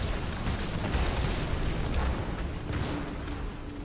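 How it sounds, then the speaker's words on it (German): A big explosion in Halo 2: Master Chief Edition, heard as a sustained, loud, broadband rumble that fills the whole stretch and eases slightly toward the end. "was auch immer die große Explosion hinter mir ausgelöst hat"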